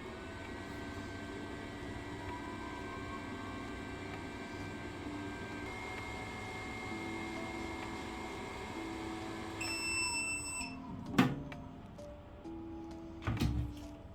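A resin 3D print wash and cure station runs with a steady motor hum and tonal whine, then switches to cure mode with electronic beeps and a couple of sharp clicks and knocks near the end.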